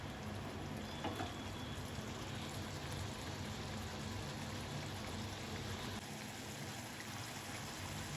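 A pan of thick masala gravy for prawn curry bubbles and sizzles steadily, a continuous close-up simmer with faint stirring noises and no voices.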